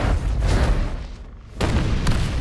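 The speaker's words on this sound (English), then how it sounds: "the cannons work again" Heavy cannon fire in the war strategy game Valkyria Chronicles 4, deep booming blasts rolling continuously with a brief lull before another loud burst of concussive explosions.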